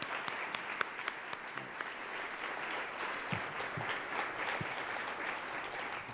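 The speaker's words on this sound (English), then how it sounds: "Let's have a round of applause" An audience at a forum applauds its panelists with steady, sustained clapping from many hands, moderately loud and even throughout, no voices standing out.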